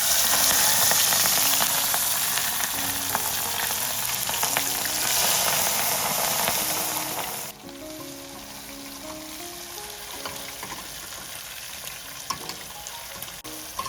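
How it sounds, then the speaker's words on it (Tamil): Prawns dropped into smoking-hot oil for a prawn moju, a loud, dense crackling sizzle that eases to a quieter, steadier bubbling fry partway through, with no talk. "இப்ப நான் இதை போட்டு பொரிக்க போறேன்."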